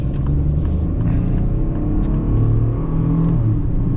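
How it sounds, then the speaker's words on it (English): A 2025 Ford Bronco Sport Outer Banks with a 3-cylinder turbo engine accelerates, its engine rumbling and rising in pitch from inside the cabin, loud and steady without talk. "It's actually got pretty good power for being a 3-cylinder turbo."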